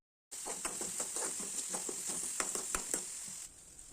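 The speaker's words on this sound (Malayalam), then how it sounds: "അതൊന്ന് വഴട്ടിയെടുക്കുക." Crushed ginger, garlic, shallots, chilies and curry leaves sizzle steadily in hot oil, with a spoon stirring through them in quick scraping strokes, close and fairly quiet, with no talking.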